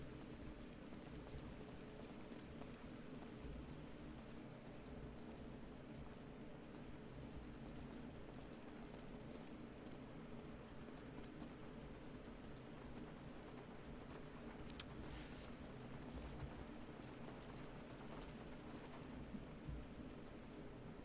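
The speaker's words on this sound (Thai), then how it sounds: "มันเสียงฝนมันดังอะ" Steady rain falling outdoors, a continuous broadband hiss of drops at moderate distance with no pauses, faint and even throughout, with no one speaking.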